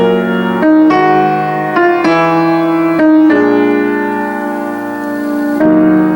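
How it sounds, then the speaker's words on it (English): Piano playing a top-voice melody over simplified block chords, a series of sustained chords struck one after another at a slow, even pace, clear and close with no talking. "The top voice, if played with simplified block chords underneath, could sound like this."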